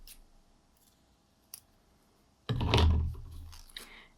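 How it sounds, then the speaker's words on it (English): Scissors snip through beading thread in one short, close crunching cut after a couple of faint clicks in a quiet room. "and then just stop it and cut off the thread"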